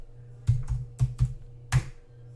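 Five or so sharp keystrokes on a computer keyboard, typing GIMP into a command window, come in an uneven burst over a steady low electrical hum, close and fairly quiet.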